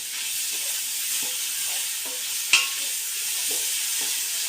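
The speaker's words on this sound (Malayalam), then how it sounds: "ഞാൻ നല്ലോണം വഴറ്റി." Steady hiss of onions sizzling in a hot pan, with soft scraping stirs and one brief clink of a utensil against metal.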